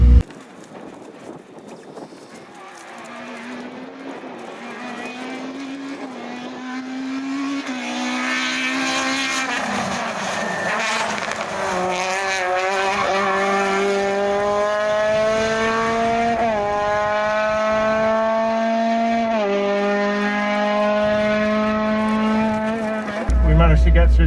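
A Peugeot 106 Rallye race car drives hard on a circuit stage, its engine note climbing steadily through the revs with gear changes audible as sudden drops in pitch, heard from inside the car.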